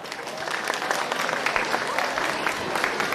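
An audience applauds a ballroom dance club at an outdoor town fair, sustained even clapping from a sizable crowd, with some voices mixed in.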